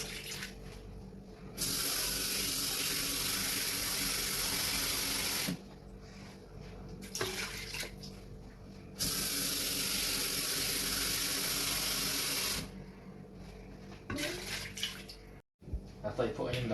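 Water pours from a tap in long steady rushes during home cooking, added to a pot of mushrooms and tofu, with two loud sustained spells separated by quieter gaps of kitchen noise.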